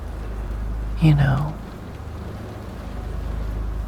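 Steady ambient rain forms a soft, continuous wash in the background, with a brief voice-like sound near the start and the rain carrying on alone afterward.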